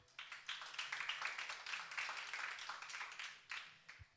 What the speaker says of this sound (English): So round of applause for the BrownC-Rec to present.